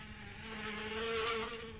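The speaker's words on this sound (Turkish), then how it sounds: "Sinek sanki kulağımın dibinde." A fly buzzes close by in GTA San Andreas, a steady whining drone that swells louder and nearer for a moment before easing off, with no speech over it.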